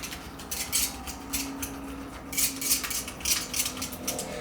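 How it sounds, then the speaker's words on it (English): Rapid stabbing of pork belly skin with a sharp tool, a close series of quick light clicks and taps in an uneven rhythm, some faint and some crisper, with no talking. "Stab the pork belly skin a few hundred times."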